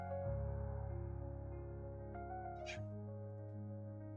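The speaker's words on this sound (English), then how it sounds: "There is a cat meowing at me." A cat meows softly and close by, a drawn-out plaintive call with a brief higher squeak near the end, alone in a quiet room.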